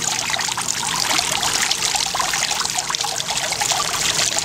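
A water pump turned down to a low output pours a thin, steady stream, a continuous close trickle that runs unbroken and alone throughout.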